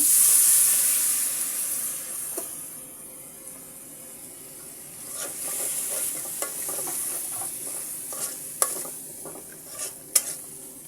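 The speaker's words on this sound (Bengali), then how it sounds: "মশলাটাকে আমি সুন্দর করে কষিয়ে নিচ্ছি" Spice masala of bay leaf, turmeric and a splash of water sautéing for chicken with chickpea dal, a steady close sizzle with scattered scraping and clicking of a spoon stirring the pan, no voices.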